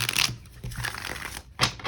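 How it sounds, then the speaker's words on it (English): Oracle cards are shuffled by hand at close range, giving soft papery riffles and crinkly brushes in short uneven bursts, with a sharper flurry near the end. "One more shuffle."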